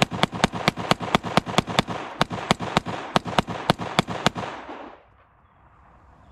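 A Zoraki blank pistol fires about twenty loud, sharp reports in a fast, steady rapid-fire rhythm, one after another for nearly five seconds, then stops, leaving faint outdoor ambience.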